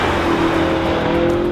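A new BMW M5 with X-Drive all-wheel drive accelerates hard, giving a loud, sustained engine roar with a steady rising drone, close up and with no voices.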